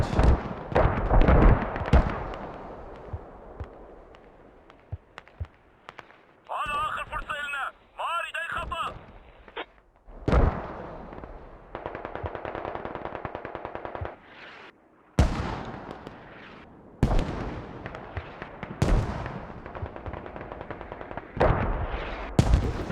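Mortar and gunfire in the Squad video game during an online tournament match, with repeated sharp booms and bursts of firing, some distant rumbles, interspersed with people talking over a radio-like channel.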